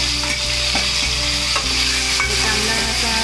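Tomato fries in a hot pan with curry leaves for a Malvani fish curry, a loud, steady sizzle punctuated by regular stirring scrapes, close up with no voices.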